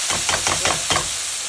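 Onion paste spatters and sizzles in a hot pan for a chicken aloo curry, with a few bursts of stirring scrapes over a steady hiss, close and moderately loud.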